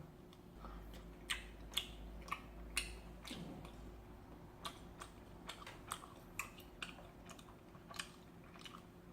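Someone chews mayo-garlic cup tteokbokki close to the mic, making a series of soft, sharp bite and chew clicks at a steady irregular pace over a quiet background hum.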